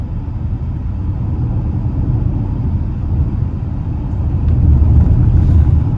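A 2023 Tesla Model X dual-motor, all-wheel-drive electric SUV accelerates, heard from inside the cabin as a steady low road and tire rumble that swells louder toward the end, with no engine note and no voices.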